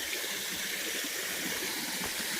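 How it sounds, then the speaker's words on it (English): A small waterfall in Pittsburgh, Pennsylvania, rushes as a steady, broad wash of falling water, close and even with no pauses or talk. "It's not much of a waterfall"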